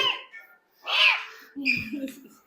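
A cat meows a few times up close, short rising cries with brief pauses between them.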